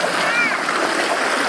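Water rushing steadily through a Keene A52 sluice box, a continuous broadband splashing wash that stays close and fairly loud for the whole moment, with no voices.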